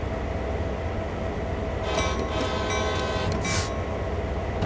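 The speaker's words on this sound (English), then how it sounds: "Sound the horn." A locomotive horn sounds in Train Sim World 3 during yard switching, a loud sustained blast rising over steady engine rumble about halfway through and recurring in a second burst near the end.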